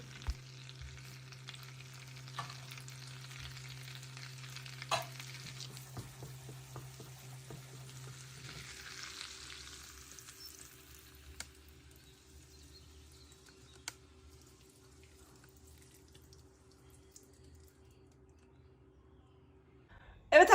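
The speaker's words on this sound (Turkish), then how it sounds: "eritmiş olduğum tereyağımı, pul biberi ve naneyi yakıp üzerine döküyorum" Melted butter with chili flakes and mint sizzling as it is poured over manti, a steady crackling fizz that gradually fades, with faint clinks and a brief sharp sound at the very end.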